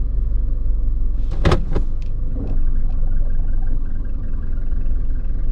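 A Toyota RAV4 with an engine misfire drives off after being shifted into drive, a steady low engine and road rumble heard from inside the cabin, with a couple of brief sharp clunks near the start.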